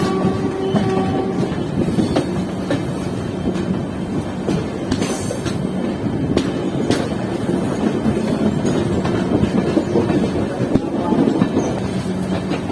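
A double decker express train picking up speed after three years out of service, a loud steady rumble with rhythmic rail clatter and scattered clicks, close and continuous with no talk over it.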